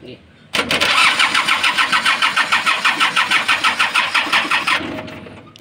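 A diesel vehicle's starter cranks hard for about four seconds with a fast, regular chugging pulse at close range, then cuts off; the engine fails to catch on a car that won't run.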